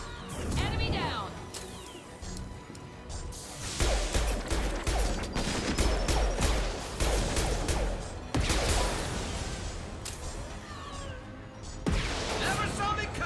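Rifle gunfire in the sci-fi shooter Intergalactic Adventures 2, loud sharp shots in irregular bursts with crashing impacts and whooshes between them, cutting through a busy game soundscape.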